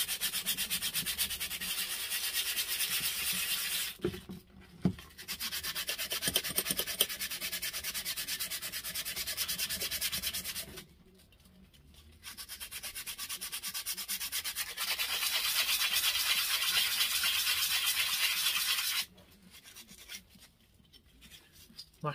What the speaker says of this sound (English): let's just flatten these surfaces off. With a bit of sandpaper.